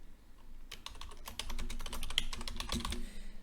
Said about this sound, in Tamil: ஸோ PPT ட்ரைனிங்னு நான் டைப் பண்ணியிருக்கேன்